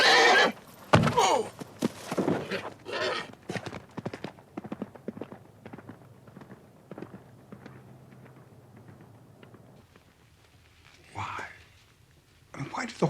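Radio-drama horse effects, with a neigh or whinny and hoof clip-clop as the animal lashes out, bursts of loud activity early, then quieter stretches and a final whinny-like cry near the end, with voices in places.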